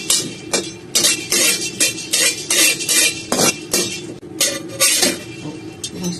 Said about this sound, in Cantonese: 用個白鑊烘一烘佢，用個慢火慢慢放下佢